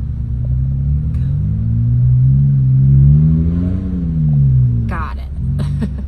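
A Jeep off-roading at Beasley Knob OHV in second gear, its engine rumbling loudly and rising in pitch as it strains over a tree root, then easing off, with people talking nearby.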